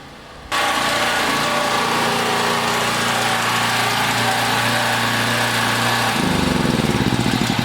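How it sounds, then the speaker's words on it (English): A small portable generator is started on a snowy farm during a power outage and runs with a loud, steady engine drone close by. The pitch shifts near the end as the load changes. "Probably could have got another 3 hours out of it, so not a bad little generator."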